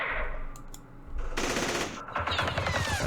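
Heavy automatic gunfire from a Vietnam War strategy game, loud bursts of machine-gun fire and overlapping shots that swell into a dense fusillade, with no voices.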